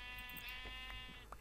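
Sheep in Minecraft with the Better Than Wolves mod bleating in a couple of short, buzzy calls over steady game background tone.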